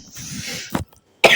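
A single sharp cough bursts out, loud and close, after a stretch of softer vocal noise and a brief pause, amid casual play of a Roblox paint-and-hide game.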